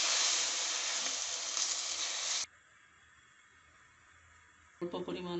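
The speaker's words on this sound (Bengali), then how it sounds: "এখন দিচ্ছি 1 কাপ পরিমাণ দুধ।" A cup of milk poured into a hot pan of ghee with cardamom powder gives a loud, steady sizzling hiss for about two seconds, then cuts to near quiet before a voice briefly begins.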